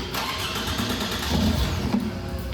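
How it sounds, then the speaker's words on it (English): A Toyota Camry engine, just removed and reinstalled, cranks and tries to fire at close range, with a rough, rising mechanical churn and a couple of sharper catches. "Start the car."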